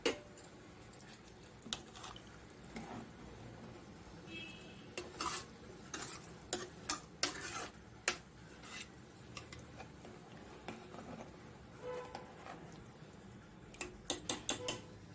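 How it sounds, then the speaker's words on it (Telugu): Rice stirred lightly with coconut milk and water, producing soft, faint scraping and occasional spoon taps against the pot, quiet and intermittent with no talking. "ఇప్పుడు వీటిని లైట్గా కలపాలి"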